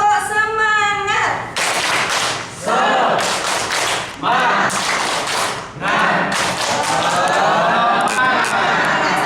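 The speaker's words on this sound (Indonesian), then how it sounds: "Yuk tepuk semangat." Teachers and parents clap out the tepuk semangat routine at a school gathering, bursts of loud, close, patterned group clapping and thumps in several rhythmic phrases, interleaved with people chanting and speaking between the clapping bursts.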